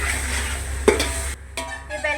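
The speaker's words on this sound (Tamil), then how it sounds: "நல்லா கிண்டி விட்டுக்கணும்." Vegetables for vegetable biryani sizzle in a pan with garlic and chilli powder as a spoon stirs them, close steady frying hiss broken by a couple of quick scraping strokes.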